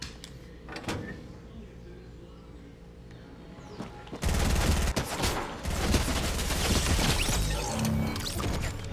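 SMG gunfire in the Fortnite video game, heard as rapid bursts of shots that erupt loudly after a quieter stretch of game ambience and keep rattling to the end.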